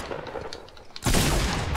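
Gunfire in the Fortnite video game: a quieter stretch gives way to a sudden loud burst of rapid shots that keeps going, close and dense, with no talk over it.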